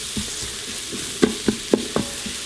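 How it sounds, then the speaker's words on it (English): Onions sizzle in hot oil with spices for dairy-free butter chicken in an Instant Pot, a steady, bright hiss broken by a few sharp clatters as a utensil stirs. "You can hear the sizzle is just about done"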